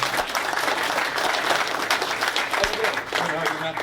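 An indoor audience at a live guitar clinic claps steadily for a volunteer, a dense, sustained round of applause throughout with a voice faintly underneath.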